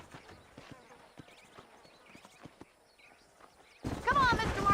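Horse hooves clip-clop in the Red Dead Redemption video game, a steady run of light, close footfalls, with speech and louder sound taking over at the end.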